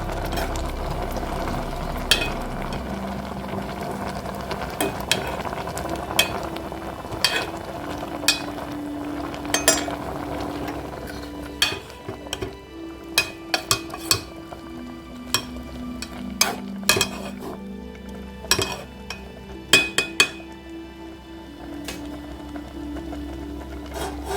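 Metal ladle scraping and tapping in a pan as brinjal is turned over, a series of sharp clicks and knocks over a steady low sizzle, close up with no talk.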